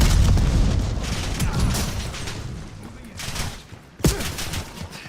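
A video game firefight fills the stretch with dense, loud gunfire and rumbling booms, fading slightly before a sharp, close blast near the end followed by more shooting.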